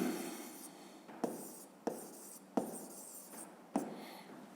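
A pen writes out a physics answer on paper: steady scratchy strokes with a few sharper taps as new lines or words begin, close and quiet, with no talk.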